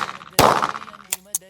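Gunshot striking a steel target during sport shooting practice: one loud sharp crack with a ringing metallic tail, then two brief clangs follow in quick succession.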